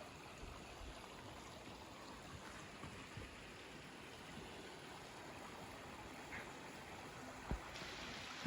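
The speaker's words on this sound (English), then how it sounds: "This is the water coming down the bridge that Audrey's getting for our filtered water" Steady broadband rush of water flowing down a stream beneath a bridge on the Oregon Coast Trail, continuous and moderately close, with a faint thump near the end.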